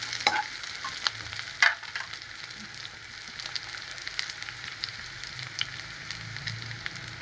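Dried red chilies frying in hot oil for a Pongal-style kovakka and channa poriyal, a steady close sizzle and crackle with a few sharp pops and stirring clatter near the start.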